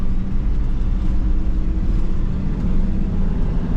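Car interior on a Moroccan road near a toll road, with a steady, loud engine drone and road rumble running unbroken throughout, no talk.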